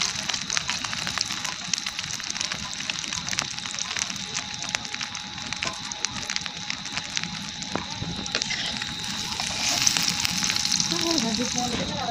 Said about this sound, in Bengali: আরেক চুলাতে আমি ডিম ভেজে নিচ্ছি।